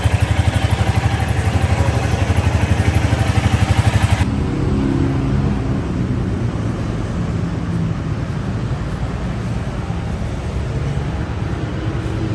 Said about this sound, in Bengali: বুলেট যারা ইউজ করেন তারা একটু স্টার্ট দেওয়ার পরে কিছুক্ষণ 5 মিনিট অ্যাটলিস্ট স্টার্টে রাখবেন